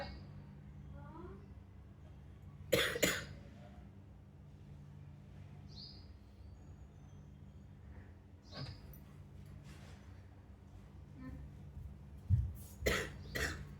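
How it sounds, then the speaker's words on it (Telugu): A few brief, faint coughs spaced out over a quiet, hushed background, with small chirps and rustles. "ఒకటి 2 చోట్ల దగ్గు వచ్చింది."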